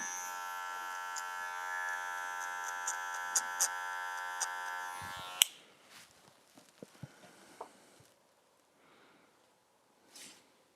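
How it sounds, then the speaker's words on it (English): An electric beard trimmer buzzes close up for about five seconds as it finishes a beard line, a steady tonal hum with small taps, then cuts off, leaving quiet rustles and handling noises. "And then I'll finish that line up with the trimmer."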